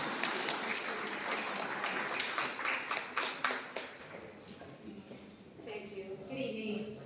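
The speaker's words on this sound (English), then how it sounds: "Round of applause for Ms. Perez," Audience applause at a civic association candidates event: a round of clapping rises and continues for several seconds in a hall, then fades as a voice begins talking.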